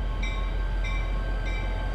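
A train rolls along tracks laid down the middle of a road on the Coos Bay waterfront, a continuous low rumble with a faint high squeal that repeats about every half second, steady and fairly close.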